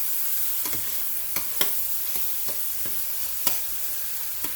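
Garlic stirred into a sizzling shrimp and vegetable skillet: a constant hiss of frying with sharp utensil scrapes and taps at uneven intervals, close up, with no voices.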